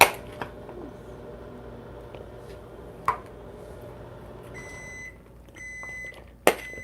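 A microwave oven beeps as it finishes cooking carrots, a short series of high electronic tones in a quiet kitchen with light clatter and faint background noise.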